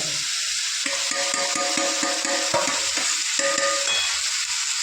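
Village goat mutton with Kashmiri red chili powder and homemade spices sizzles in a pan, with steady frying hiss and repeated scraping stirs close up. No one speaks.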